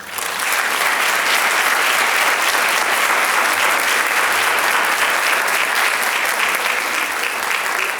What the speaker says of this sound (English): please join me in a huge round of applause